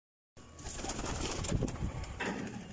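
A pigeon coos inside a nest box in an outdoor aviary, a low continuous murmur that starts after a brief silence and stays close and steady, mixed with faint rustling.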